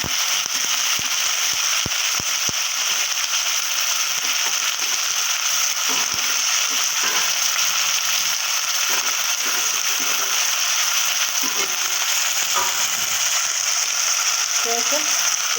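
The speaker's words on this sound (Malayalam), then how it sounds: "കടുക് പൊട്ടിയിട്ടുണ്ട്, കറിവേപ്പില ഇട്ട് കൊടുക്കാം." Mustard seeds and curry leaves sizzle in hot oil, a loud, continuous frying hiss with scattered sharp pops and crackles close by.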